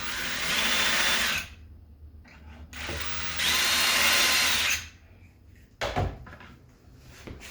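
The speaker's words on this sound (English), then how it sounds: "I'll just drill it and barely make a mark" A power drill whirs in two short bursts, close by, marking holes for kitchen cabinet hardware, followed by a few clunks and handling noises.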